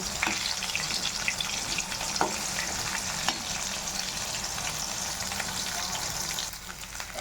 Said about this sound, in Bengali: আমাদের পটল আর বেগুন ভাজা হচ্ছে।